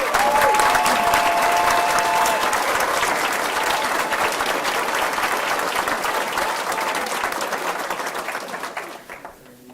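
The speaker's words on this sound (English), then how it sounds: "Let's give them another round of applause." Sustained round of applause from an audience at a board meeting honoring award recipients, dense steady clapping that gradually thins and fades toward the end.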